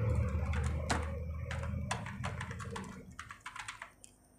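Keys clack on a computer keyboard during an online primary school stipend form entry, a run of quick irregular taps close to the microphone over a low background hum, with no talking.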